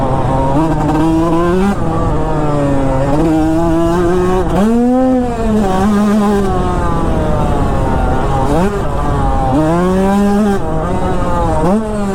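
A dirt bike engine revs repeatedly, its pitch climbing and falling in surges as the throttle is worked, loud and close throughout with no talking.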